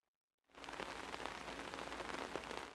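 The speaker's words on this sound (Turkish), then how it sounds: "Şiddetli yağışlar bu kez Çanakkale'yi vurdu" Steady, dense downpour of heavy rain drumming on surfaces during flooding storms in Çanakkale, Turkey, starting abruptly after a brief silence and continuing loud and unbroken.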